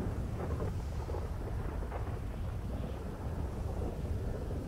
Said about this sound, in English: it only just started raining